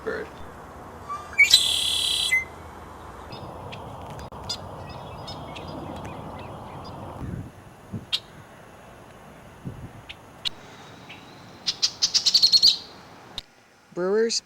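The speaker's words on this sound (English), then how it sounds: "Red-winged blackbird." A red-winged blackbird calls outdoors with a sharp, buzzy trilled phrase early on. Scattered chips and clicks follow over soft ambient noise, then a louder rapid trill near the end.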